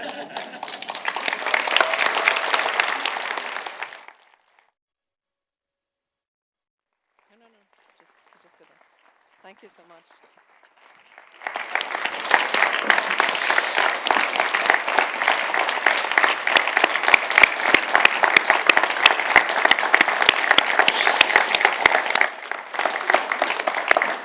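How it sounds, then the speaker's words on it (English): Audience applause following a peace address on human rights, loud and dense, then a silent gap with a brief spoken thanks, before a second longer round of clapping swells and continues steadily. "As you can hear from the applause"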